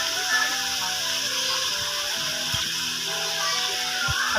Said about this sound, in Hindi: थोड़ा सा पानी डालेंगे और इसे अच्छी तरह भूनेंगे मसाले को।